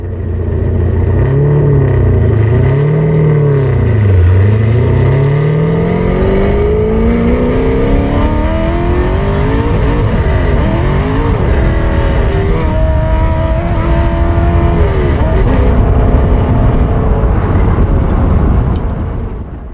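A Chevy Blazer fitted with a Corvette C5 engine runs hard on an autocross course, its loud, close engine revving up and down in continuous sweeps and surges for the whole stretch, with no talking.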